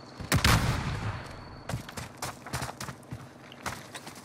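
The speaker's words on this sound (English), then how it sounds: "Stun grenade out." A stun grenade detonates in Call of Duty Warzone on the Caldera map, a loud burst near the start followed by scattered sharp bangs and gunfire-like cracks at varying distances.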